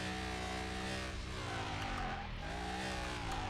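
A Ribbsan Z530 on slick tires in Car Mechanic Simulator 2021 holds a steady, droning engine note with layered harmonics that rise and dip slightly as it drives, moderately loud and unbroken.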